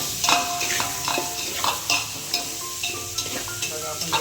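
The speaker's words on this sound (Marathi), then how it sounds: "आपण हे आता बाकी साहित्य टाकून देतो आणि आपल्याला फ्राय करतो" Vegetables for pulav, among them capsicum and cauliflower, fry with garlic-ginger paste in a pan under a steady soft sizzle, while a spoon scrapes and clinks against the metal in an irregular stirring rhythm close by.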